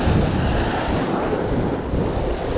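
A big ocean wave rolls onto rocky shore off Fuerteventura. It makes a loud, continuous roar of surf and wind buffeting the microphone, with no voices.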